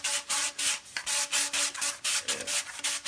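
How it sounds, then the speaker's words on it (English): Coarse 80-grit sandpaper rubs back and forth over PVC pipe, making a rhythmic series of short, gritty scraping strokes, about three per second, close up with no talking. "I'm using 80 grit sandpaper to just kind of clean the pipe off where it's going to fit in"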